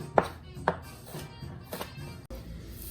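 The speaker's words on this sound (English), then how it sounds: "And these I'm gonna cut in nice thin slices." A knife cuts a red pepper into thin slices on a board, producing a few distinct chopping taps spaced irregularly over a few seconds, close and fairly quiet, with no speech.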